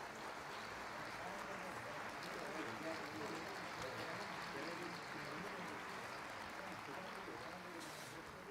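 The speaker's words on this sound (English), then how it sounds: "please welcome them with a big round of applause one more time?" Sustained applause from an audience at an opening ceremony, a dense, even patter of clapping that holds steady at moderate volume from start to finish, heard from some distance.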